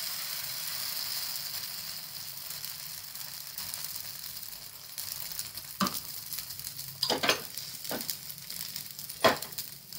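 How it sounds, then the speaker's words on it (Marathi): Poha dosa batter hitting a hot, oil-greased iron griddle, a steady sizzle with several sharper crackling bursts from about six seconds on, close and moderately loud, with no talking. "इथे तवा चांगला तापलाय तवा चांगला. आता याच्यावरती बॅटर टाकून घेऊया."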